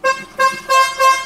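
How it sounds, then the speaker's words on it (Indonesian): A second-generation Toyota Yaris horn sounds four short, loud honks in a quick even rhythm, heard close with no voices. "Kita cek klakson."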